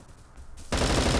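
Automatic gunfire in the shooter game Bullet Force suddenly erupts after a quiet moment, a loud, dense burst of rapid shots that continues to the end.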